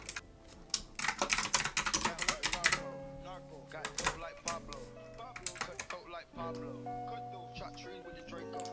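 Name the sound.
typing on a computer keyboard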